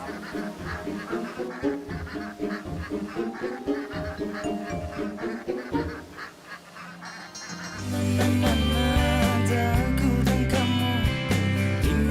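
Ducks quack in a duck pen, a busy rhythmic flock of honks and quacks; partway through, loud music swells in and largely buries them.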